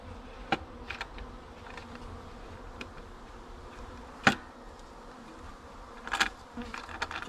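Honeybees buzzing around a backyard observation hive as it is loaded, a faint low hum with several brief louder passes of individual bees flying close.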